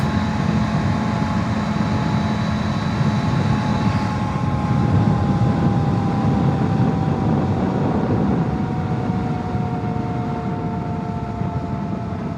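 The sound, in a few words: adventure motorcycle engine running before being turned off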